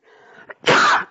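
A single short sneeze bursts out close up after a faint, brief inhale.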